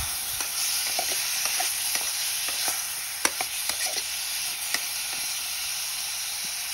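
Large chunks of tomato added to a pan with pork are stirred with a spatula, a steady hissing sizzle under repeated scrapes and occasional sharp knocks against the pan, close and alone.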